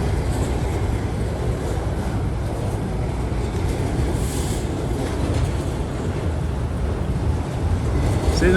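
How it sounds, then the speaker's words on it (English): A CSX or Norfolk freight train with boxcars rolls steadily past, a broad sustained rumble that stays even and moderately loud without pause. "See another boxcar."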